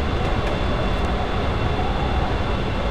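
A train in Train Simulator 2015 rumbles through a tunnel on the Manchester London Road to Sheffield Victoria route, giving a loud, constant, enclosed roar with no talking.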